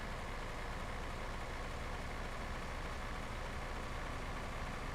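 An old tractor engine in the video game Farming Simulator 15 runs loud and steady, a continuous dense drone with no breaks or changes.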